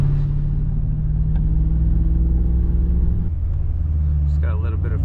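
A 1998 Cobra engine with upgraded throttle response holds a steady, loud idle-like rumble from inside the car, then its tone shifts briefly, with a voice heard toward the end.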